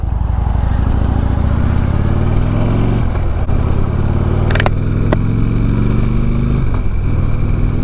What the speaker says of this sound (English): I'm actually test riding one of the local PD bikes